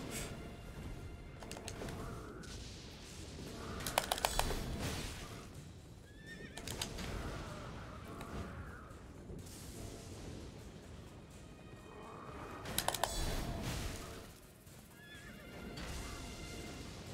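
Horse neighing and whinnying in the video game Elden Ring, several loud calls over a steady clip-clop of hooves and occasional booming impacts, with no talk.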